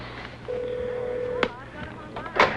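A telephone number is dialed, with one long steady tone followed by a few short key beeps, faint over quiet room tone.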